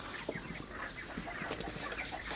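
Several broiler chickens with mild colds cluck softly and intermittently over a low steady background hum.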